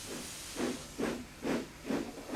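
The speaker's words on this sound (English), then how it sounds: "Thomas is a steam engine." Puffs of a cartoon steam engine, four evenly spaced chuffing hisses of steam about half a second apart over a steady background hiss, with no talk.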